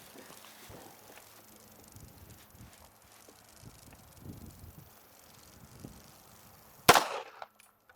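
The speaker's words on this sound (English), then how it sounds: "I'll shoot on that one on the right." A single sharp gunshot from a French 7.65 Long WWII small arm cracks loudly near the end, after several seconds of quiet outdoor shuffling and faint background sounds.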